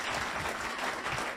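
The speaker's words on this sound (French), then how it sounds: "On applaudit, on applaudit, on applaudit." An audience at a Caribbean Christmas dance contest applauds in a steady, dense wash of clapping, a little distant and moderately quiet, with no speech over it.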